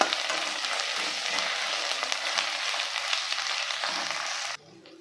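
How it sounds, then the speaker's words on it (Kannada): A spoonful of ginger garlic paste sizzles loudly and steadily in hot fat for chicken dum biryani, close and continuous, then drops suddenly quieter near the end. "ಅದರಲ್ಲಿ 1 ಸ್ಪೂನು ಜಿಂಜರ್ ಗಾರ್ಲಿಕ್ ಪೇಸ್ಟ್ ಹಾಕ್ಕೋಬೇಕು. ಹಾಕ್ಕೊಂಡು ಹಸಿ ವಾಸನೆ ಹೋಗೋದು ಚೆನ್ನಾಗಿ ಫ್ರೈ ಮಾಡ್ಕೋಬೇಕು."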